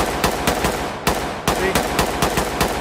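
Rapid repeated gunfire in the tactical shooter game Ready or Not, a steady string of sharp close shots with one brief gap.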